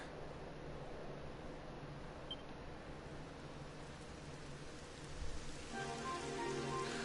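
Steady rain patters down in a soft, even hiss in the video game Dragon Quest XI, fairly quiet and continuous, with a slight swell near the end.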